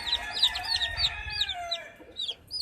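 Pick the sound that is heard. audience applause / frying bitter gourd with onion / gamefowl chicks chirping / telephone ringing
gamefowl chicks chirping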